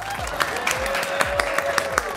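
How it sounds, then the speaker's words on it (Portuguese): Podcast audience clapping to welcome a guest, a loud, fairly sparse round of distinct claps with a sustained tone running underneath, brief and close-sounding. "Uma salva de palmas."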